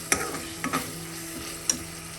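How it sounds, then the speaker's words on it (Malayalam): Green prawns stirred with curry leaves in a pan, giving a few soft scraping clinks of the spoon over a low steady sizzle, with a faint tick near the end. "അതൊന്ന് ഇളക്കി കൊടുത്ത ശേഷം"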